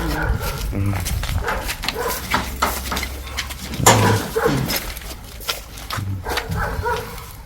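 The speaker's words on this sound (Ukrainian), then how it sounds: "А ось собака." A dog barks and whimpers outdoors in a shell-damaged residential area of Kherson, with short yelps and whines rising through a busy background, people talking nearby and something clattering.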